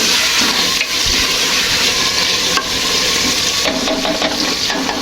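Chicken and ridge gourd cooking in a covered pan over low heat with no water added, giving a steady, close sizzling hiss throughout with faint stirring scrapes and no talk.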